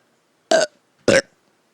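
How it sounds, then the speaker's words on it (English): Two short, loud burps about half a second apart, close to the microphone in a quiet room. "How long have you been burping?"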